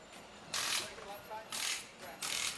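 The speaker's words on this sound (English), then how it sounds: "this crew, putting on the tires, getting ready to torque the wheels right there. You see that big old torque wrench." Big torque wrench tightening race car wheels in a stock car garage: three short, loud ratcheting bursts at even intervals, close by, with faint background noise between them.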